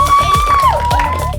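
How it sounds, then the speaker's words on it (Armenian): A crowd of children at a cooking contest in a camp cheering and clapping loudly, a dense roar of shouts and applause with a high whistle-like voice rising over it. "Ուզում եմ առաջին հերթին մի հատ ձեզ ծափահարենք բարձր։"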